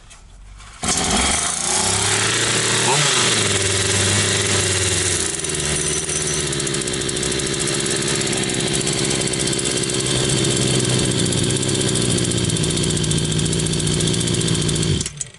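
A Hyundai X 380 petrol chainsaw catches and starts after about a second, then settles into a loud, steady idle close by that runs uninterrupted until it cuts off at the end.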